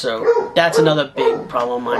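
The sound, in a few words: dog barking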